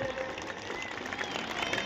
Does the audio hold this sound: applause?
yes